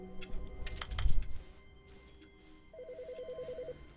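A telephone in The Stanley Parable video game rings with a repeating electronic trill, preceded by a clatter of clicks and thumps, the ring fairly clear and steady near the end.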